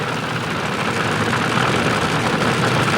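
A drag racing car engine rumbles steadily at the 1980 NHRA US Nationals as it rolls toward the starting line after burnouts, a loud continuous low drone with no pauses.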